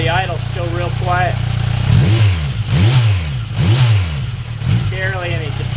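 A Kawasaki Versys 1000 fitted with a Holeshot slip-on exhaust idles with a low steady rumble, then is blipped three times in quick succession, each rev rising and falling, before settling back toward idle; no one talks over it.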